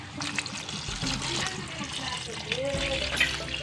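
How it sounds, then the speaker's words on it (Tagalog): Coconut milk poured into a cooking pot gives a close, liquid trickle and splash lasting a few seconds, while people talk over it in the background. "Ngayon guys, ilagay lang natin ang gata."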